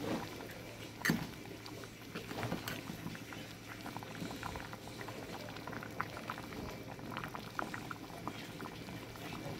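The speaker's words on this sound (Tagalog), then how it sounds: "Palalaputin natin to ng konti." Lechon paksiw simmers in a pot, a close, continuous bubbling and popping of boiling liquid with irregular small bursts, steady and moderately quiet, with no voices.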